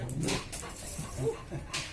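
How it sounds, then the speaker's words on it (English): A dog gives a few short yips and whimpering barks close by, in a quick uneven burst, heard during an indoor spiritual talk in Tiruvannamalai. "The dog."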